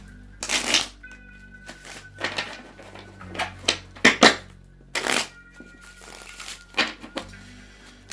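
Oracle cards being shuffled by hand, a series of crisp riffling bursts separated by short pauses, close and clear with no talk over them.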